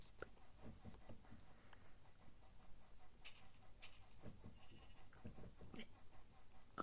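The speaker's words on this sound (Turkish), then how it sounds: "Koyun sesi geldi." A few short bleats rise over a soft background patter, fairly faint and spaced apart, with a voice murmuring underneath.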